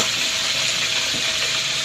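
Chicken pieces frying in hot oil in a home kitchen give a loud, steady, dense sizzle that stays even and unbroken throughout, close to the pan with no talking.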